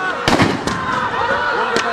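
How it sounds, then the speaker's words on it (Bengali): Sharp cracks of gunfire from a replayed recording of police shooting a protester at close range, several sudden bangs among shouting voices and crowd noise. "বেশ কাছের থেকে সরাসরি গুলি করে হত্যা করেছে।"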